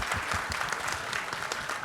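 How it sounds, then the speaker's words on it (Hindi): Applause from an audience at a campus event with guest performers, a steady dense wash of clapping filling the whole stretch at even loudness with no talk over it. "एक बार उनके लिए भी जोरदार तालियां"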